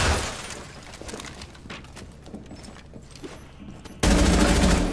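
Rapid bursts of gunfire and breaking sounds from the video game Rainbow Six Siege, with scattered loud shots and crackling impacts, then a sudden loud burst at the end.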